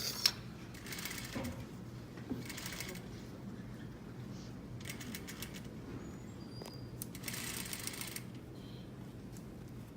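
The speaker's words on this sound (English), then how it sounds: "I'm sewing it at 1/4 inch, just all around this curve, moving my pins as I sew" A sewing machine stitching a flat collar at a quarter-inch seam around a curve, heard as several faint, short bursts of rapid mechanical whirring separated by quiet pauses.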